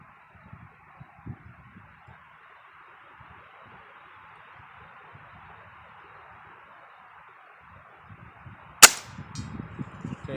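A Gamo Whisper Fusion Mach 1 air rifle fires once outdoors: a single sharp, close crack near the end, after a long stretch of quiet ambience with faint low rustles.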